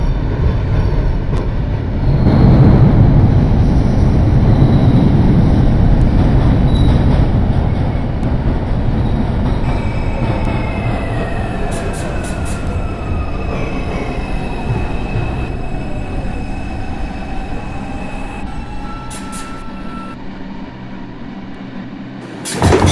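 A video game R142 subway train on the NYC 6 line rumbles along loudly with steady track noise, then metallic wheel squeals rise and glide as it slows, ending near a stop.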